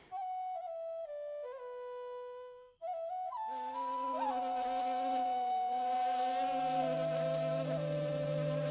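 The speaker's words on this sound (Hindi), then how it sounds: "मैं जब भी इन मक्खियों को देखता हूँ तो मुझे खुजली मच जाती है।" Flies buzz in a steady, close drone that shifts pitch in wavering steps, growing fuller and denser partway through and continuing without pause.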